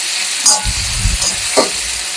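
Rice frying in a hot pan while it is stirred, a steady loud sizzle broken by a few scraping stirs and low clatters.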